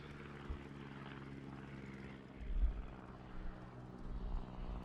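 Propeller aircraft engines from carrier planes in the naval video game World of Warships give a steady, droning hum. It holds throughout with a few low thumps and no talking.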